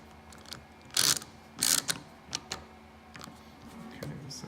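A Porsche 911 or Boxster cup holder mechanism is worked by hand, giving a couple of louder plastic clacks and ratcheting snaps followed by scattered lighter clicks over quiet room noise.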